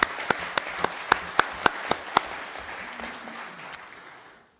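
Audience applause for a choir in a parliament hall, a burst of hand claps with a few sharp louder claps standing out, fading away over a few seconds.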